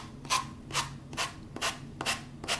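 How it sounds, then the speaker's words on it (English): Rough abrasive rubbing in six regular back-and-forth strokes, a sanding stone rasping off napkin decoupage edges up close, gritty, with short pauses between passes. "I'm gonna sand this off."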